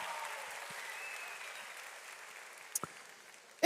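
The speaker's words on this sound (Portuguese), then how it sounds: "Uma salva de palmas, Rogerinho." A church audience applauds for Rogerinho, a soft wash of clapping that fades away gradually, followed by a few isolated knocks.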